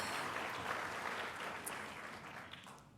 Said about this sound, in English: We get a little applause for that.